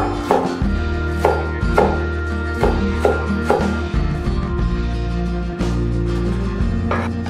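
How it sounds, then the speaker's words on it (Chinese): Knife chopping scallions on a cutting board for a breakfast pancake batter, a steady series of sharp, close taps at an uneven rhythm, loud and clear with no talking. "切点葱花"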